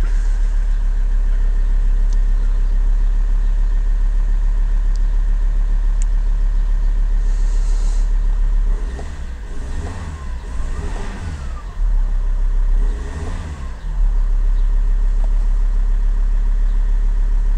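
A diesel Alfa Romeo 166 2.4 JTD, its fuel filter just replaced and the system purged, cranks and catches, then revs up twice in rising bursts before settling back to a steady, loud idle, recorded close with no talking.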